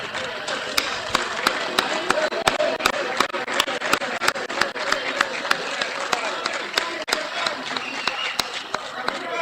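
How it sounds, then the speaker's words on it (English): An audience at a political gathering claps for their leader, with sharp hand claps spaced across a steady murmur of crowd noise, and speech running underneath. "let me ask all of us to stand and clap hands for our leader"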